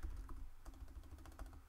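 Keys clatter on a computer keyboard in quick irregular bursts, close and fairly quiet, during a Minecraft storage-building session.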